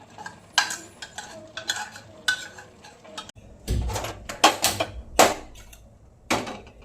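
A metal spoon stirs and mashes soft cooked vegetables in a pot, giving irregular scraping clanks and knocks against the vessel with quiet pauses between strokes; no speech.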